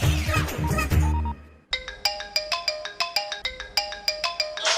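A telephone ringtone chimes in a rapid repeating electronic pattern, loud and close, following a brief burst of noisy sound at the start.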